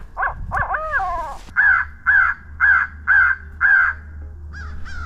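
A handheld crow call used for crow hunting gives a rapid series of harsh caws, then five evenly spaced loud caws over a faint low outdoor rumble.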